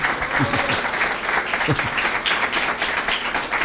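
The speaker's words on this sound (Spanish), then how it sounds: "Vamos a aplaudir. Un aplauso para ellos." Church congregation breaking into warm applause, a dense, steady patter of many hands clapping at close range, with a few voices and a brief tonal note mixed in.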